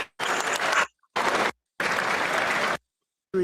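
Applause at a congressional hearing comes in three separate bursts of dense clapping, each cut off sharply by a stretch of silence.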